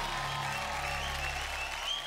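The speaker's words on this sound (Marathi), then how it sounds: "जोरदार टाळ्या." Audience applause on a Marathi TV show stage after a performance, a steady, even wash of clapping from a crowd that holds at moderate level for the whole stretch.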